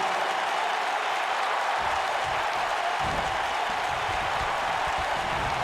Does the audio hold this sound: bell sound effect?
no